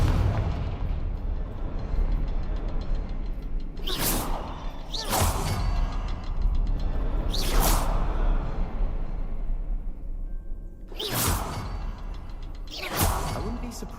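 Confringo blasting spells in Hogwarts Legacy: five loud whooshing explosions at irregular intervals over a steady ambient game background.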